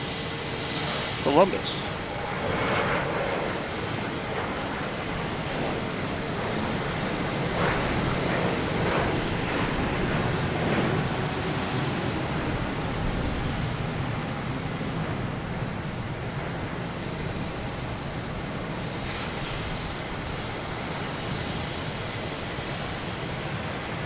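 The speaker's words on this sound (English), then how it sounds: "Is that American taking off, heading to it was Columbus or Charleston?" An American Airlines jet takes off at Boston Logan Airport, a faint, steady broadband roar at a distance, with someone talking over it.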